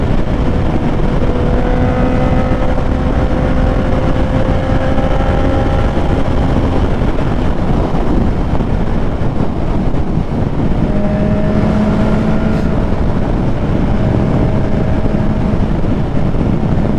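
Honda CB650R motorcycle engine while riding, a loud continuous roar with rising and falling gear-change tones over heavy wind rush, sustained close-up throughout with no talk.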